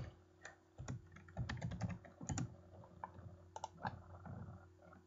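Typing on a computer keyboard, close and quiet, with irregular bursts of clicking keystrokes and short pauses between.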